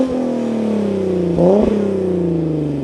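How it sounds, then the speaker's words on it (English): A modified BK1 Hyundai Genesis Coupe 3.8 V6 with an ARC dual-tip exhaust idles with a deep steady drone, then revs sharply once around the middle and settles back to idle, loud and close with no talk. "this thing just sounds really good. It's got an ARC dual grip exhaust,"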